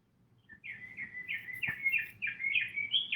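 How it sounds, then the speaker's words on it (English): Birds chirping outdoors in the morning, with one bird repeating bright, high tweeting phrases fairly close and clear over a quiet background, with no talking. "Ah, those birds."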